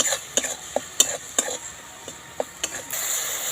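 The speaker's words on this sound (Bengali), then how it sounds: "চিনি, ধনে গুঁড়ো, জিরে গুঁড়ো, মশলাগুলো ভালো করে তেলের মধ্যে নেড়ে নেব।" Sugar, coriander powder and cumin powder stirred into hot oil for a Bengali potol pasinda: a quick series of crisp spoon clacks against the pan over a soft, steady sizzle, close up and without speech.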